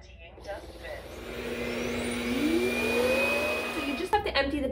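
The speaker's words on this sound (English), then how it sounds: "The robot goes to the docking station, empties itself automatically." A robot vacuum's auto-empty docking station starts up with a rising whoosh and a steady loud suction roar that shifts in pitch, then winds down with rattling at the end.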